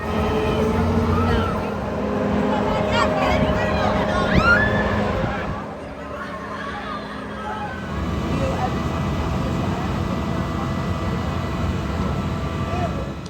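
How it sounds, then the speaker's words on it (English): The original Enterprise ride runs at Dorney Park amusement park, giving a steady mechanical hum and whir with some tonal whines, a drop partway through, and crowd chatter in the background. "Now we're gonna take a ride on a very rare attraction, their original Enterprise."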